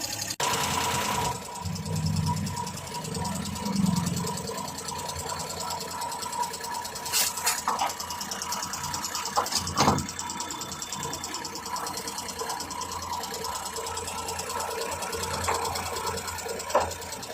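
A small Suzuki F6A 12-valve engine in a multicab idles steadily nearby after a top overhaul, its even mechanical hum and rapid rhythmic clatter unbroken for the whole stretch.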